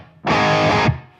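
A single distorted electric guitar chord through a Strymon BigSky reverb pedal set to Reflections with little reverb, ringing about half a second, then cutting off abruptly with only a brief, faint tail of reverb.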